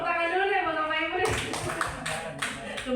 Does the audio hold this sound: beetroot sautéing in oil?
no